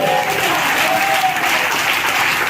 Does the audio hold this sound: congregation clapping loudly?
yes